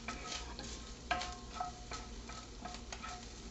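Diced green onion is stirred into a sizzling taco mixture in a pan, soft frying crackle under a few light scrapes and taps of the spoon, fairly quiet.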